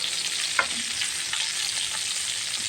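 Rohu fish pieces fry in oil in a pan, making a steady close hiss and sizzle with a faint clink of a utensil, no talking.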